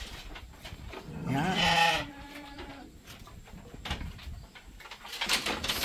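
Goats on a goat farm, including pregnant does, bleat in a loud wavering call near the start, with fainter bleats and barn noise later and a brief word spoken.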